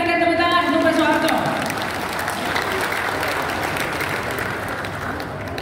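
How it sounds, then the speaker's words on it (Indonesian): An audience at a forum of retired Indonesian army soldiers gives a sustained round of applause, loud at first and then settling into steady clapping, with a faint tone fading out early on. "Sekali lagi kita berikan tepuk tangan"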